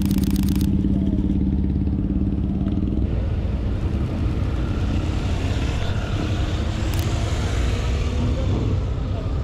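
Motorcycles from a Bikes and Breakfast ride pass along Main Street in Clifton, Virginia, a loud engine drone with an idling tone early on that gives way to a broad rushing pass-by roar.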